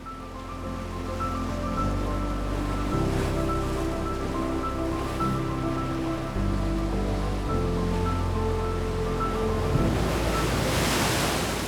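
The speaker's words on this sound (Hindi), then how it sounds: "Look at this waterfall. ये कितना मैजेस्टिक है। इसका नाम है जंग फॉल।" Nuranang (Jang) waterfall in Tawang gives a steady, loud rushing roar of falling water throughout, with tonal music layered over the continuous wash.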